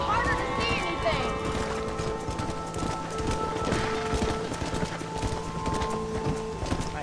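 Horse hooves gallop in a rapid clip-clop rhythm in the Red Dead Redemption video game, close and loud, mixed with game sounds and an occasional whinny, with a voice talking over it.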